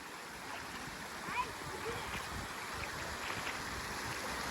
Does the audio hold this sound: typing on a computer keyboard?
no